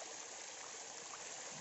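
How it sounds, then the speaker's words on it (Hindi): Waterfall and flowing stream in a forest setting, a steady, broadband rushing wash of water that stays constant and fairly loud throughout, with no talk. "झरना है"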